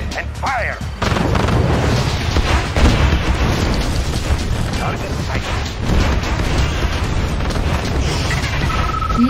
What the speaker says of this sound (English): Missile ready. And fire!